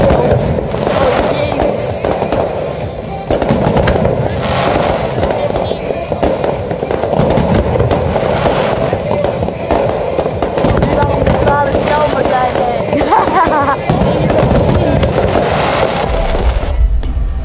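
Large firework shells burst one after another in a dense, loud barrage, with booming explosions layered over crackling and rumbling for the whole stretch, and a brief lull near the end.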